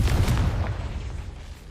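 A Confringo blasting spell detonates in Hogwarts Legacy, a single deep boom with a heavy low rumble that decays over under two seconds.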